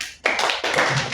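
Students clap together in a classroom, a short burst of applause that starts abruptly and carries on steadily at close range.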